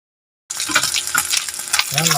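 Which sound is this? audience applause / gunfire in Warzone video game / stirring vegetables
stirring vegetables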